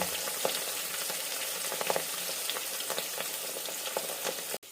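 Fish fries in a pan with a quiet, continuous crackling sizzle and scattered small pops, heard alone without talk.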